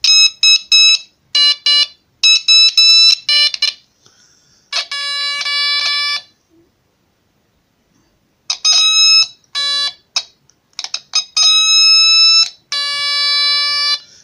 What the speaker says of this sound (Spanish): Con 22 nanofaradios es un sonido más grave, más apagado. Y un sonido más agudo con 10 nanofaradios.